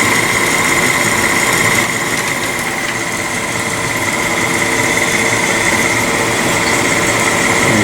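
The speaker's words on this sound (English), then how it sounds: "we will turn on the process dump pump" A process dump pump runs steadily to empty the tank of a comet assay machine, a constant loud mechanical whine and hum with a faint tonal drone and no breaks.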